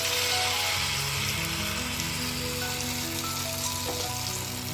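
Battered banana fritters (pazham pori) crackle and hiss steadily as they fry in boiling oil, a dense, continuous sizzle that stays close and fairly loud for the whole stretch with no talking.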